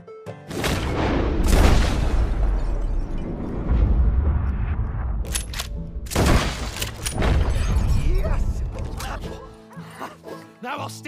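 Gunshots ring out in the Red Dead Redemption video game: several loud, sharp cracks scattered across the stretch, mixed with continuous character dialogue and ambient game sound.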